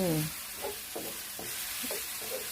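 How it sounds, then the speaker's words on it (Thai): Pork and seasonings stir-fried in a pan for water spinach: a steady sizzle with several soft scraping stirs spaced about half a second apart, following a brief tonal clank at the start. "ผัดให้หมูกับเครื่องปรุง"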